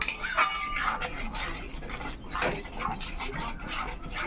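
A spoon stirs and scrapes ground spice masala into wet masala in a pan for a Katla fish head dish, giving irregular metallic clinks and scraping strokes close by, with no talk.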